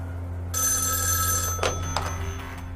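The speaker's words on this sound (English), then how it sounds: "Sheriff Crowder receives a phone call." An old landline telephone bell rings steadily for about a second, then stops, with low room hum beneath and a couple of soft knocks afterward, in a quiet sheriff's office scene in 1970s Florida.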